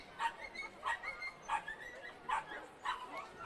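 Dachshunds yipping during a wiener dog race at a racetrack, a string of about six short, high barks at a steady pace, faint and distant against crowd murmur.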